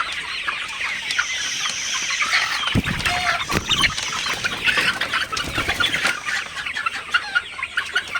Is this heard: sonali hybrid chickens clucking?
yes